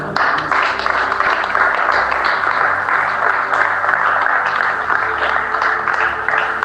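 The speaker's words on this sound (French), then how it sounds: "Applaudissons pour le Seigneur." A church congregation claps together in sustained, dense applause. The clapping runs steadily and loudly for several seconds, with a faint murmur of voices underneath.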